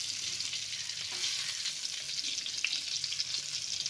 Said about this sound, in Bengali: পটলগুলো এবার এভাবে নাড়াচাড়া করে হালকা করে ভেজে নিতে হবে।